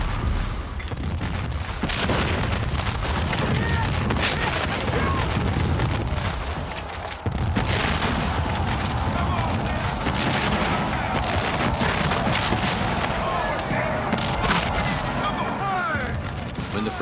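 Massed cannon and musket volley fire from a Civil War battle re-creation roars continuously, dense booms and cracking shots layered into a loud, sustained din, with a voice narrating over it.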